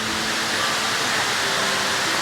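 Cherokee Falls, a waterfall in Cloudland Canyon, pours out a steady, dense rushing roar of water that fills the whole moment without letup.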